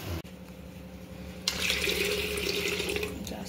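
Water pours into a pot in a home kitchen during cooking, starting partway through as a steady, close rushing splash after a quieter stretch of background hum.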